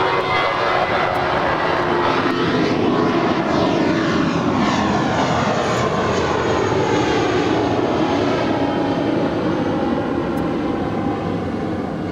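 A fixed-wing airliner at Los Angeles LAX airport roars steadily and loudly for the whole span, a broad, constant engine rush with slowly sweeping tonal shifts as it passes.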